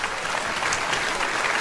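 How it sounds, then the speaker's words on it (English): A large stand-up comedy audience of about 2,400 people applauds steadily, a dense, loud wash of clapping with no talk over it. "45 or older, applaud."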